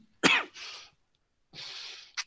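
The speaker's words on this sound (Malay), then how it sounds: "Batuk pula dah." A single person's cough: one sharp burst followed by two breathy exhalations separated by a short pause, close and clear in a quiet room.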